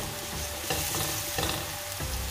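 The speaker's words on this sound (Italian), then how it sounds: "Il sale aiuta a far uscire l'acqua in eccesso dalla cipolla. Quindi è importante metterla mentre sta soffriggendo." Chopped onion with salt sautéing in a pan makes a steady, close sizzle and crackle, with a few stirring scrapes and clatters along the way and no talking.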